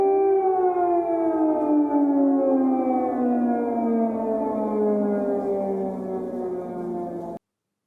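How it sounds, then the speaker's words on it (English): A civil defense air raid siren wails loud and steady, its tone slowly sliding downward for about seven seconds before cutting off abruptly. "There's not explosions, there's been an air raid siren."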